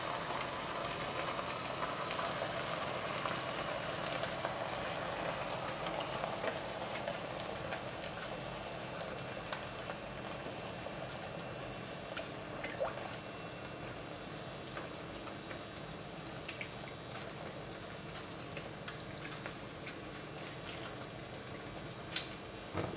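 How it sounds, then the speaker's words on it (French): Crème fraîche goes into a reduced green pepper sauce for duck breast, giving a quiet, steady sizzle and bubbling with scattered faint pops throughout and no talking. "On va maintenant incorporer"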